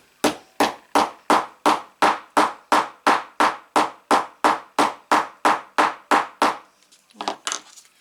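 A small hammer flattens a paper craft piece for a scrapbook folio with about seventeen sharp, evenly spaced taps in a steady rhythm, loud and close, followed by a brief rustle of handling at the end.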